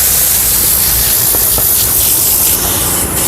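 A loud, steady rush of air from a Vortex air tool hisses continuously at close range, with brief textured bursts as it works across carpet.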